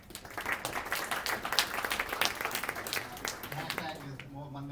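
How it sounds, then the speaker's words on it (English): Applause from a seminar audience greeting Mario, a dense steady patter of clapping lasting several seconds and tapering off at the end, with a voice beginning underneath. "round of applause for Mario"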